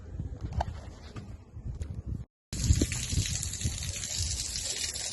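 Water gushes and splashes inside a Max Air Boeing airliner cabin, a steady close rushing flow with brief trickling bits, cut by a short silence before the louder gush resumes.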